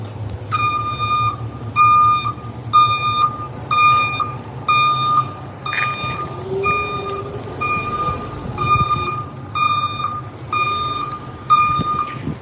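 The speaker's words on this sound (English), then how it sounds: "Oh, if only this truck could beep for hours." A sanitation truck's warning beeper sounds in a steady, evenly spaced series of loud electronic beeps, about one per second, over a low engine rumble on a street.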